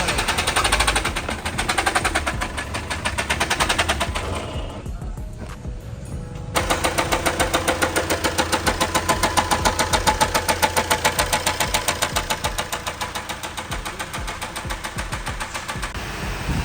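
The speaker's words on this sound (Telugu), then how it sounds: "ఇంజన్ కనెక్టింగ్ నాయిస్ వస్తుంది బాగా గట్టిగా" Fiat Punto engine in a car service workshop, running with a loud, rapid, steady metallic knocking that carries on throughout, with a short drop in level partway through and no speech over it.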